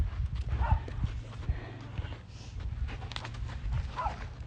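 A mare's hooves clip-clop at a steady walking pace under a rider, close by, with low rumbling background noise and a couple of faint animal sounds.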